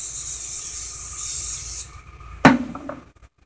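A spray can being sprayed in a craft project, a steady hiss lasting nearly two seconds, then a sharp clatter and brief rustling before silence.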